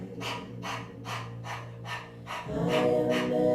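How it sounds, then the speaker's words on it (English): Breath of fire yoga breathing: quick, forceful exhales through the nose as the belly pumps, about eight sharp huffs in a steady fast rhythm, close and clear over soft background music. "So you'll be continuously pumping the belly in and up as you exhale through the nose."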